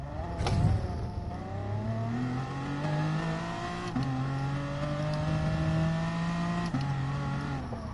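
Car engine in Gran Turismo Sport running flat out, pitch climbing through the gears with brief drops at each shift, loud and continuous for several seconds with no talking.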